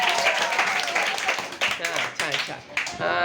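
Applause breaks out in a Marathi gathering praising a child's effort, with bursts of hand clapping mixed with voices talking over it, fairly close and lively.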